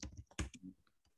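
Someone types on a slightly wonky computer keyboard, giving a quick, faint cluster of clicky keystrokes with brief pauses in a quiet room.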